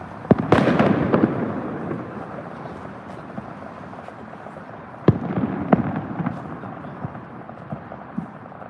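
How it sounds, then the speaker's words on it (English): Fireworks boom in the distance in China, a burst of several loud bangs early, then scattered sharper pops and crackles over a low rumbling background. "They just constantly set off fireworks."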